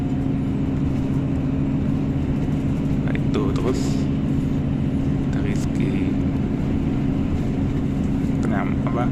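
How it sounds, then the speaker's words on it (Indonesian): Inside a Cititrans intercity bus travelling fast on the highway, a constant low engine and road drone fills the cabin while a person talks over it. "kecepatan bus ini juga lumayan kencang nih, sekitar 100-110 rata-rata"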